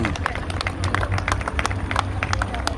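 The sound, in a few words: crowd applause at rally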